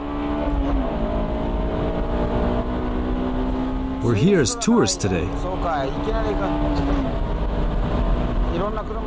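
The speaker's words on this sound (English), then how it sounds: "Great acceleration from the start." A Honda Type R car accelerating on the Nürburgring old course, a steady engine drone with a rising tone held throughout, under someone talking from inside the car.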